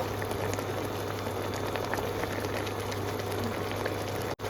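Pabda fish curry bubbling gently in a pan, a steady close-up simmer of dense small pops and bubbling that carries on evenly throughout, with no talking.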